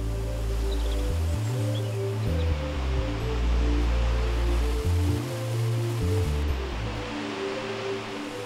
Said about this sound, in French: 16 lacs reliés entre eux par une série de cascades.